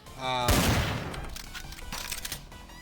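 A Desert Eagle pistol fires in Caco Strike, a Counter-Strike style game built on the DOOM Zandronum engine, with one loud, close blast and a decaying echo, followed by faint clicks.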